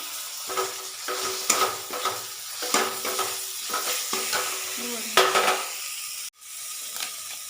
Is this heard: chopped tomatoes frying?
yes